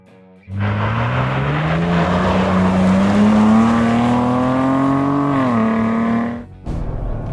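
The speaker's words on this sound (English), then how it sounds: "let's go ahead and see how this thing does on a launch" A Ford Raptor truck launches and accelerates hard on a wet road, its engine roaring loud and close with a steadily rising pitch for about six seconds, then easing off.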